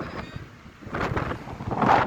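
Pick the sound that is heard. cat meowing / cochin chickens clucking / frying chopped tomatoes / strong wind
strong wind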